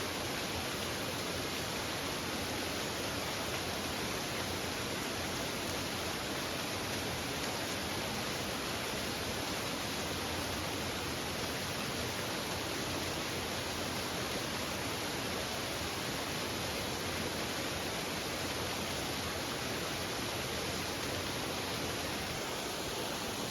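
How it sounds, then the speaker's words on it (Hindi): A small waterfall beside a trekking path on the way from Chaukori to Wan village, carrying little water, gives a steady, even broadband rush of falling water with no break for the whole stretch and no voices over it. "अभी आ चुका है एक झरना रास्ते में, काफ़ी सुंदर है लेकिन अभी पानी कम है"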